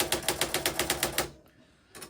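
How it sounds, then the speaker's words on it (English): A Royal Scriptor AX-150 electric typewriter with a ribbon that fails to advance types a quick, even run of about ten crisp keystrikes, stops, then gives one more strike, heard up close with no one speaking. "Here we have a Royal Scriptor ax-150 typewriter."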